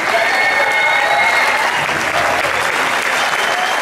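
An audience at a school wind ensemble festival applauds distinguished student scholars, sustained dense clapping from a full crowd that stays loud and even throughout.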